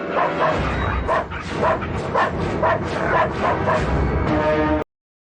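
Several dogs bark and yip repeatedly in quick bursts, fairly close and loud, with some whining between barks; the sound cuts off abruptly near the end.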